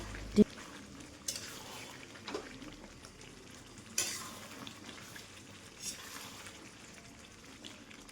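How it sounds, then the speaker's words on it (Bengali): Mutton curry being stirred in a pan, with faint scraping of a spoon and a few light clinks over a soft background sizzle, quiet and close with sparse taps. "এটাকে আরেকটু নাড়াচাড়া করে একটু ঢেকে দেবো"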